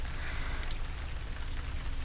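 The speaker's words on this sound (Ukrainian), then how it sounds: "Падає дощик" Steady rain falls outside a dark house on a gloomy day, a soft continuous patter with no distinct drops standing out, heard alone at low level.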